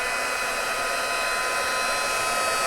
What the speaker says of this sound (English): I want to make sure my heat tool is hot.